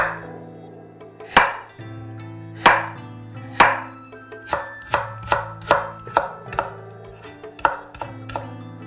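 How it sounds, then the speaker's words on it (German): Carrots are cut into strips with a knife on a cutting board while garlic and cabbage are prepared for a Chinese-style Spätzle and pointed-cabbage stir-fry. About a dozen crisp, close chops land, slow at first and then quicker, with no one talking. "Möhren in Streifen schneiden."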